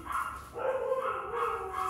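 A very large husky puppy howls close by in two drawn-out, wavering cries with a short break between them.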